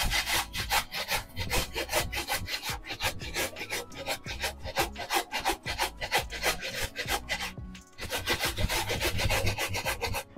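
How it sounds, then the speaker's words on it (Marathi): Papaya being grated by hand, a fast, loud, rhythmic rasping of firm fruit scraped across a grater, continuous strokes close up with one brief pause near the end, no talking. "पपई किसून झालेली आहे आता ही."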